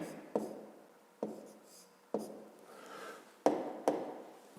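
Writing numbers on a board, sharp taps and scratchy strokes arriving in short bursts about once a second, close and fairly quiet.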